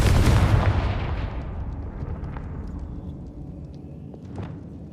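A Confringo fire spell explodes in Hogwarts Legacy, starting with a loud, close boom that rolls into a long fading rumble. A few fainter pops and magical chimes follow later.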